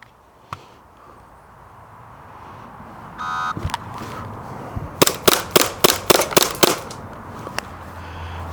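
Pistol shots from a Springfield XDM ring out on a shooting range: an isolated crack, then a rapid string of about six loud, sharp shots close by. There is no talking.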